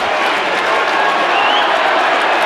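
A 1996 Sheffield v Leeds football crowd reacts angrily to a touch judge's call with a loud, dense, continuous roar of many voices that stays at full strength throughout.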